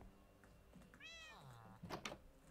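A single drawn-out meow from a cat in Minecraft, fairly close and clear, rising then falling, followed by a couple of brief knocking thuds.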